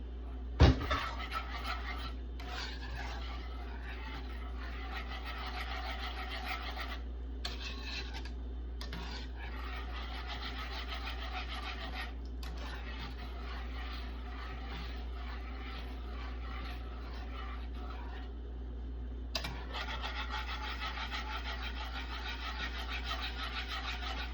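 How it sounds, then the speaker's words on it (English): Béchamel sauce with milk and nutmeg being stirred in a pan gives soft, continuous rubbing and scraping strokes in bursts, with brief pauses between them. "I'm gonna keep stirring to let it get thick."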